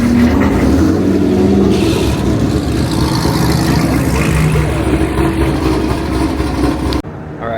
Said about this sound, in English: Why is this car so loud?